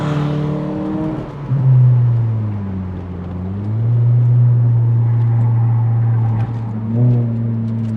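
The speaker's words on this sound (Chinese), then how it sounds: "Custom exhaust 就可以自己选你要的声音" Honda Jazz with a custom exhaust accelerates through the gears, a loud close engine drone rising in pitch, dropping at each shift and climbing again, with no talk.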